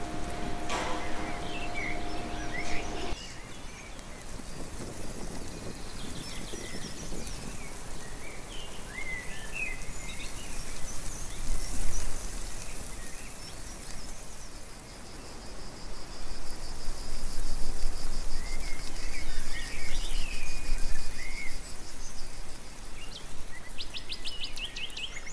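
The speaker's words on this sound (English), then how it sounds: "Let's see if Puppy reacts to that bird" Birds call and chirp outdoors along a bridge walkway, scattered bright calls rising over a steady bed of insect or cricket-like buzzing, moderately close and without talk.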